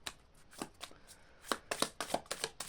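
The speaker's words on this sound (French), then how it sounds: "Alors, je vais prendre une carte comme ça." A card is drawn from a tarot deck with a series of soft, quick papery slides and flicks. They are close and quiet and come in irregular bursts that grow busier toward the end.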